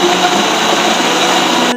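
A kitchen blender whirs steadily as it grinds dried onion into powder in its jar, a loud, continuous, close motor drone with a constant whine and no pauses.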